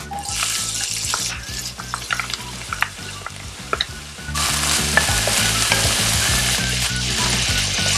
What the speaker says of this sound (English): Then add garlic, chopped onions, and mix well.